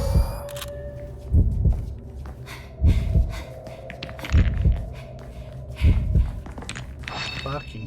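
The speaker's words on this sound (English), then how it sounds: "I'm tired of hearing that heartbeat." Heartbeat in the video game Fatal Frame II: Crimson Butterfly remake, sounding as deep paired thumps repeating about every one and a half seconds over a low ambient hum.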